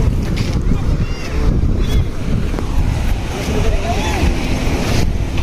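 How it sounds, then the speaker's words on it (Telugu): Sea waves break and wash over the rocks at Pondicherry's rock beach, with strong wind buffeting the microphone. The surf roars continuously and fairly loud, and a voice can be heard faintly in the background. "ఇదే పాండిచ్చేరి బీచ్."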